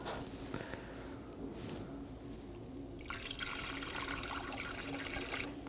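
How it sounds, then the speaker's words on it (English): Old coolant poured through a funnel into the radiator of a 2018-2024 Chevrolet Equinox 1.5L, a steady close liquid trickle and splash that thickens into a fuller gurgling pour partway through, with no talking. "Now to refill our coolant, I place a rag over the battery to ensure no coolant gets on if it spills."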